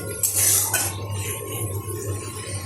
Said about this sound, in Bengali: হালকা আঁচে এটা কষতে থাকতে হবে জোরে দিলে মশলাটা পুড়ে যাবে